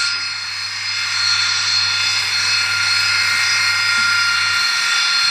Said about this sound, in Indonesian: Rupanya ini jet Sukhoi.